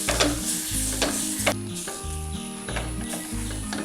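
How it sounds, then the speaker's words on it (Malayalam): Beetroot pachadi with ground paste just added is stirred in a pan, a spoon scraping and swishing in repeated strokes over a soft sizzle, close and clear. "അരപ്പ് ചേർത്തതിന് ശേഷം ഇതൊന്ന് ഇളക്കി കൊടുക്കാം."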